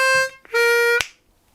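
Short blues harmonica lick, a blown note, a brief rest, then a held tone and a sharp bent draw note, played alone and close with rich harmonic overtones.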